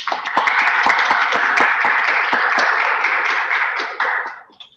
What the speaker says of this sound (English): I love that we have an actual applause from the people